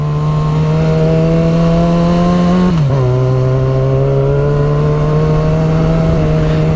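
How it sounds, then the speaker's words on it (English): A Yamaha FZ6R motorcycle engine idles into a very light throttle in first gear, a loud, close, steady drone whose pitch dips briefly midway and then holds smooth and even. "Notice how smooth this very light throttle application is in first gear?"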